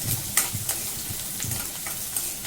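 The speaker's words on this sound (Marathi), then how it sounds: "तो कांदा आपल्याला तेलामध्ये परतून घ्यायचा आहे" Finely chopped onion sautéing in hot oil gives a steady, close sizzle with soft crackle, broken by a few brief scraping stirs.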